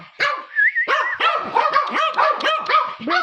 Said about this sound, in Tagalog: Tapos ito si Mother Dog